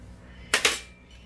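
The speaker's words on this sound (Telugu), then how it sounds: "దంచుకుంటున్నానండి" Two quick, solid knocks a moment apart, close by in a quiet kitchen, as ingredients for kandi untala majjigapulusu, a buttermilk curry with toor dal dumplings, are pounded.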